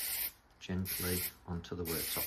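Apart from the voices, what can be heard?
spraying lacquer onto a laminate worktop repair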